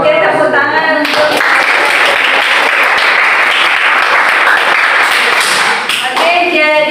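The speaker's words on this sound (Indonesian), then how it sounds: "Oke, tepuk tangan untuk." Sustained applause from a classroom of students after a group performance, dense clapping filling most of the stretch with a few voices mixed in near the start and end.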